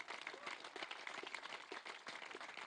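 A crowd at a French political rally claps in steady, dense applause throughout, a continuous wash of hand claps without a break.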